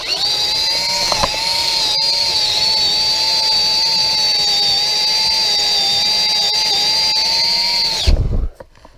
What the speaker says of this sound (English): But now, we have to really drill.